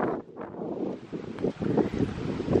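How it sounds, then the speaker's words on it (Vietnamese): Strong wind buffets the microphone beside a carp fishing lake, a steady rushing roar with gusty swells and no voices. "Gió to quá chơi được."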